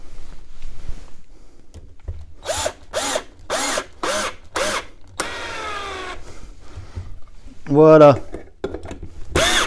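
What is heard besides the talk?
power drill driving screws into wood for a home trainer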